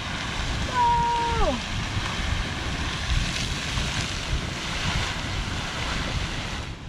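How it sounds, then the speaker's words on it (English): A Yellowstone geyser erupting and bubbling, a steady broad rush of churning water heard outdoors in wind, with a brief exclaimed voice early on. "There she blows. Whoa, that one's quite a bubbling. We have an eruption."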